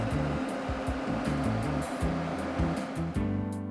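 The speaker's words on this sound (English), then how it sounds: "It's got a fan on it, an exhaust fan." Exhaust fan of a Duxtop portable induction cooktop gives a loud, steady whir, with soft intermittent clicks and tones riding on top throughout.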